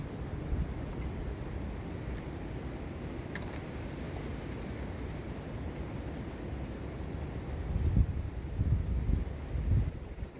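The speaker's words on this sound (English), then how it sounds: "It is stupidly windy out today." Steady wind roars and buffets against the microphone, a constant rumbling rush that swells stronger near the end.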